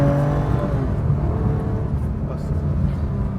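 A Singer Porsche 911, rebuilt from an older 911, hums and whirs steadily while driving, with a continuous low engine drone under someone talking.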